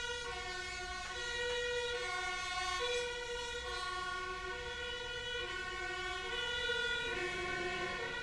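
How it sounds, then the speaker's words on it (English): Several emergency vehicle sirens wail outside at once, steady overlapping tones that rise and fall together and continue for the whole stretch at a moderate distance, with no one speaking. "That's a lot of sirens,"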